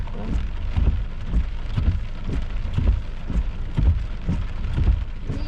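Heavy rain pours steadily during a storm-chasing outing on June 14, 2023, with deep rumbling thunder rolling through in repeated low swells, loud and close, and no voices.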